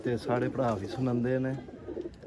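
Breeding pair pigeons coo in low, throaty rolling calls while someone speaks over them.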